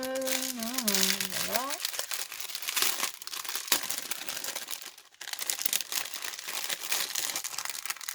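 Crinkly plastic packaging of a diamond painting kit being opened: close rustling and crumpling runs through most of the clip with a few sharper tearing bursts, while a person talks at the start.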